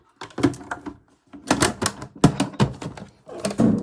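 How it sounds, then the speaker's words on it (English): A typewriter has its case fitted over it and is put away, making a series of close hollow thunks, clacks and rattles in several bursts separated by short quiet gaps. "let me just pop my case on and get rid of my typewriter for a moment"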